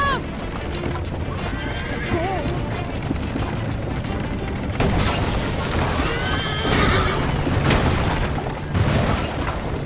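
A horse whinnies in a game cutscene set amid a gunpowder theft chase in Assassin's Creed Liberation, followed by hoofbeats, booming impacts and shouting voices in a busy action mix.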